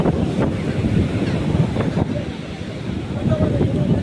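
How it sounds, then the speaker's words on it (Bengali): Big sea waves roll and crash onto the shore in quick succession, a close, churning roar mixed with heavy wind buffeting the microphone. "আর খুব তাড়াতাড়ি তাড়াতাড়ি করে ঢেউটা আসছে আর বিশাল বিশাল ঢেউ আসছে"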